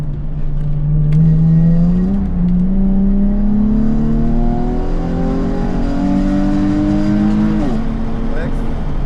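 A car engine accelerates on the Petzael race track, its note climbing steadily in pitch as it revs up, dips briefly at a shift, then climbs again, loud and close throughout.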